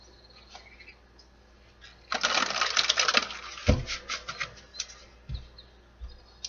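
Tarot cards are shuffled close up in a dense riffling burst of flutters and slaps, followed by a few softer taps and card thuds, with a brief spoken word.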